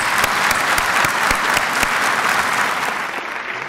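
Audience applause at a university State of the University address, a loud, dense burst of clapping close by that fades slightly toward the end, with no speech over it.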